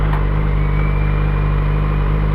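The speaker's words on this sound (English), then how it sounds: "Let's stop the bike for a bit." A motorcycle engine idles in a steady, loud, close drone with a constant low rumble and no change in pitch, heard alone without speech.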